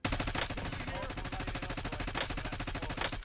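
Rapid automatic gunfire from a video game gun fitted with a monolithic suppressor, a dense, steady stream of shots firing continuously for several seconds, loud and close.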